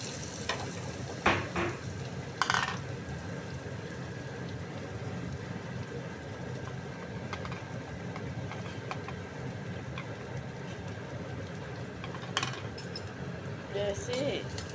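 Onions and chana dal sizzle in hot oil with a continuous crackling fry, broken by a few clinks of a utensil stirring in the pan, while a voice talks throughout.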